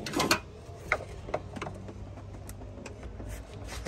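Screwdriver prying the stuck upper radiator hose off a BMW 328i, heard as close, irregular scraping and clicking of metal on rubber and plastic, with a few louder snaps early on over a low background hum.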